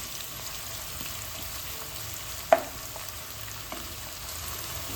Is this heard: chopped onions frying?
yes